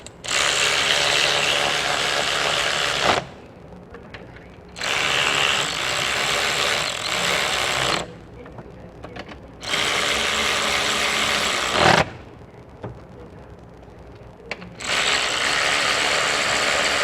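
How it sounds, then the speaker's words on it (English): Ratchet tightening the AC compressor bolts on a 1996 GM K1500/C1500 truck, four long loud runs of rapid clicking separated by pauses with faint handling noise. "But let me tighten this thing down."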